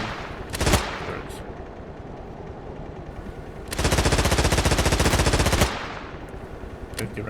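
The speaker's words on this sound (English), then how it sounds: "But there is a machine gun. It works." Machine gun mounted on a Rooikat 76mm armoured vehicle in the Stormworks game: a short opening burst, then a sustained rapid-fire stream of about two seconds, loud and close, with faint mechanical background between.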